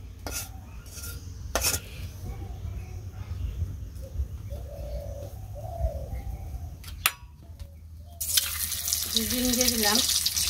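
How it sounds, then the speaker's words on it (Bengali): Eggs with chopped onion frying in a pan: intermittent spatula knocks and scrapes over a soft sizzle, which turns into a loud, bright hiss near the end. "ডিম দিয়ে দিলাম ডিম ভেজে নিই সাথে গোটা পেঁয়াজ কুচি দিয়ে দিলাম"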